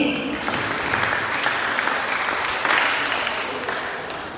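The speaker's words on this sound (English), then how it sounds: "Can you give me 6 claps?" Classroom audience clapping on the first day of classes, a loud continuous wash of applause rather than distinct counted claps, with voices underneath.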